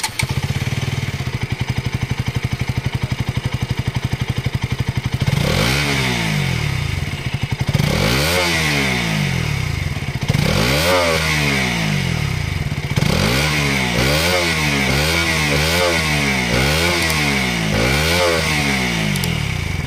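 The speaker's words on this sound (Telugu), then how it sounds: "ఒకసారి మనం ఈ బైక్ యొక్క ఎగ్జాస్ట్ సౌండ్ ఏ విధంగా ఉందో ఒకసారి చెక్అౌట్ చేద్దాం." A 2025 KTM Duke 200 single-cylinder motorcycle with an underbelly exhaust, heard up close and loud with no talk: a steady idle, then a string of sharp throttle blips that rev up and drop back, repeating in a quick rhythm.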